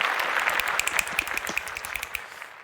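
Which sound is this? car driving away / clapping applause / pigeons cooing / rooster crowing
clapping applause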